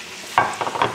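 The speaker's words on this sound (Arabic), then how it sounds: "راح نقلب البروكلي مع الزبدة والزيت لغاية ما يذبل عندي البروكلي" Broccoli florets stir-fried in butter and oil, heard as a few brief close scrapes and sizzling bursts from a spatula tossing the pan over about a second.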